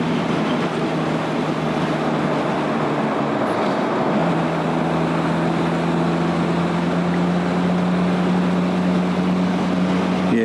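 A Harley-Davidson X 350 motorcycle cruises along on a test ride, giving a steady engine drone mixed with wind roar, with a low tone that settles in and holds through the second half.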